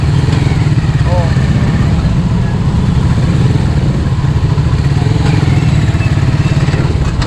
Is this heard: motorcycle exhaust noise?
yes